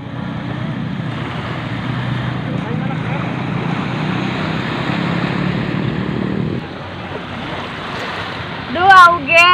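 Waves washing ashore at a beach make a steady broad rushing wash that eases off near the end, with voices and brief talk breaking in over the surf.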